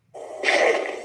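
A short whooshing swell serves as a fist-ready sound effect for a One Piece punch, building quickly into a bright, breathy rush that holds briefly, alone and moderately loud.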